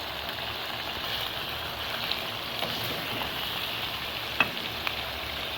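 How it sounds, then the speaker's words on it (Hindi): Meat fries in a pan with salt and turmeric for a korma, a steady soft sizzle and crackle with occasional small pops, moderately close and without talk. "इन सब मसालों के साथ गोश्त की भुनाई करेंगे।"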